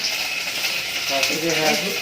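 Mustard seeds crackle and sizzle in hot oil in a pan nearby, a dense steady hiss with faint popping, while a voice speaks briefly over it.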